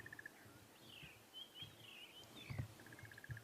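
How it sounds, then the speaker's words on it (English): A faint dawn chorus at sunrise on a safari in the Sabi Sand bush, soft chirps, trills and whistled calls from several distant birds over quiet background hiss. "we can just hear a very subtle dawn chorus today"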